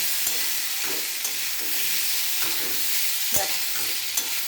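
Kohlrabi frying in a pan is stirred with a spatula, steady close sizzling broken by repeated scraping and tapping strokes throughout.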